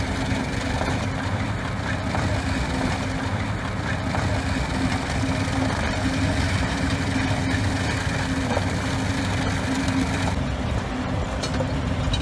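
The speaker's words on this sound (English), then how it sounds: "The Pronar MJC6510 runs with a 350 HP diesel engine, generating massive torque for crushing concrete" A Pronar MJC6510 concrete crusher runs on its 350 HP diesel engine, giving off a loud, steady low drone with a rough, churning texture that holds constant throughout, with no voices.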